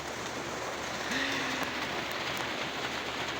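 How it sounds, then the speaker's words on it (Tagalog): Heavy rain pouring down in a steady, dense hiss that fills the air, loud and close with no voices, sounding as though it is growing stronger. "tingnan nyo, lalong lumakas po yung ulan"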